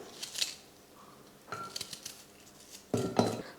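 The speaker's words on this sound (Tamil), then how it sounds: "இப்போ இந்த வெங்காயத்தை சின்ன சின்னதாக இந்த மாதிரி கட் பண்ணி சேர்த்துக்கிறேன்." A knife cuts an onion into small pieces on a board in three short, separate bursts of chopping and clatter, close and fairly quiet.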